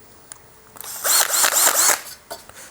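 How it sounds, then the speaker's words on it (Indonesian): A Tekiro CD-HD2047 12V cordless hammer drill with an 8 mm bit whirs in one loud burst of about a second, with a few faint clicks before and after. "kita coba bor di sini"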